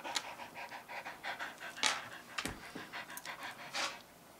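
Dogs panting rapidly and steadily at close range at a birthday gathering, quick rhythmic breaths with a sharper sniff or two, moderately quiet.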